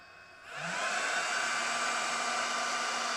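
The cooling fan of an FS7023 server power supply spins up after a brief quiet start, then holds a steady, loud, close whooshing whine with a faint tonal hum, running alone.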